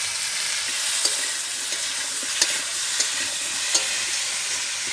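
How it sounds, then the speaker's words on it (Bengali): Potato and squash pieces fry in a pan with whole cumin and bay leaf, giving a loud, steady, close sizzle with occasional sharp stirring clicks and no voices. "গোটা জিরে এখন আলু আর কোয়াশটা দিয়ে দেবো আমি ভাজার মধ্যে"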